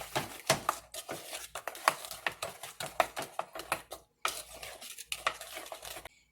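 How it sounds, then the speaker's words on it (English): Pumpkin waffle batter is stirred briskly in a bowl, a close, rapid run of utensil clicks and scrapes against the side, with one brief pause before the stirring resumes. "Give that a stir at this point."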